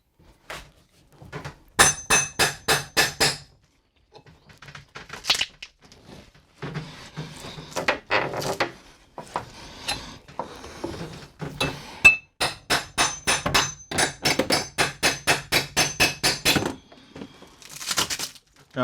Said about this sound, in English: I'm just taking this pry bar and I'm just going to kind of drive it between this top right here and that plywood